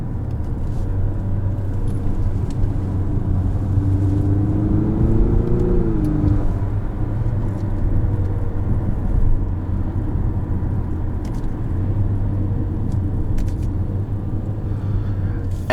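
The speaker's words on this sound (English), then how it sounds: "And yes, they are rev match downshifts." An engine drones steadily inside a 2023 Infiniti QX55 SUV, with a rising and falling rev in the middle during rev-matched paddle-shifted downshifts, continuous low rumble throughout.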